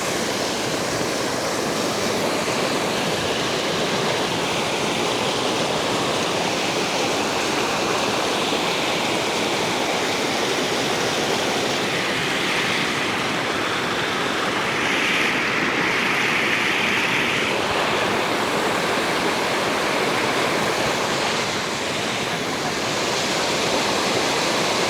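River floodwater in Medan rushes past in a continuous, loud broadband roar. The roar stays steady and unbroken throughout, with no voices.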